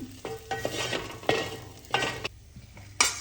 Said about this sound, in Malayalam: ഇപ്പം ഇതിലേക്ക് ഞാൻ കുറച്ച് ഓയിൽ ഒഴിച്ചിട്ടുണ്ട് അതിലേക്ക് കുരുമുളക് പട്ട ഗ്രാമ്പു ഏലക്ക ചെറിയ ജീരകം ഇട്ടിട്ടുണ്ട്